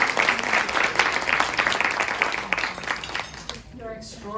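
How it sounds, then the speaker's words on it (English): An audience at a leadership awards presentation applauds Ira Minot and David Minot with a dense, sustained burst of clapping that fades out toward the end. "we must applaud Ira Minot and David Minot"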